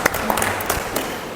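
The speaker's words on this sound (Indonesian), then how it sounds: "tepuk tangan." A short burst of audience applause during a school staff session on positive culture, steady and moderately loud for a moment.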